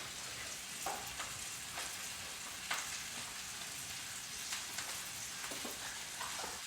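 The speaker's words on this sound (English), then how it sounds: "The most important thing is getting the onions and the capers sauteed and opened up." Onions and capers sauté in a hot pan with a dense, continuous sizzle and crackle, close and steady, with occasional stirring scrapes and no voices.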